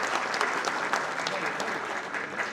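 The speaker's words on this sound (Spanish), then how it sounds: "Fuertes los aplausos, por favor." Audience applause at a law conference honoring a constitutional and criminal law specialist, a dense patter of many hands clapping steadily for a few seconds.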